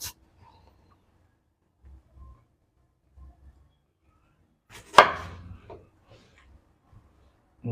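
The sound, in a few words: chopping an onion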